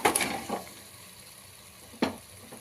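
Beans, potato, cauliflower and tomatoes for a vegetable biryani sizzle in a hot pan, a soft steady fry broken by two sharp scraping stirs, one at the start and one near the end.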